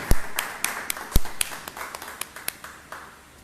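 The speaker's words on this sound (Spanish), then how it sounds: "Aquí le ofrecemos un distinguido aplauso." Scattered, sparse claps from an audience at a university event in Mexico, a handful of separate sharp hand claps spread over a few seconds rather than full applause, fairly close and fading toward the end.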